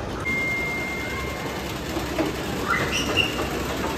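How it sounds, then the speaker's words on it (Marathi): A small toy train carries riders through a shopping mall, rolling with a steady low rumble. A thin whistle-like tone sounds early, then bright electronic chirps and beeps come from close by amid the mall's hubbub. "cute cute train"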